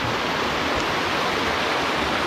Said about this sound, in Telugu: కపర్తేశ్వర కోన దేవస్థానం దగ్గర ఉన్నటువంటి జలపాతం కపర్తేశ్వర కోన